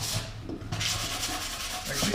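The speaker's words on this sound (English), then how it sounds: "let's do some final sanding" Hand sanding on an assembled wooden toolbox, doing final passes along the grain: quiet, rhythmic rasping strokes repeated back and forth, close up with no voices.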